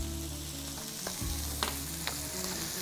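Minced garlic and onion fry with smoked sausage in a pan for risotto, giving a steady close sizzle with a few light scrapes of stirring and no talking.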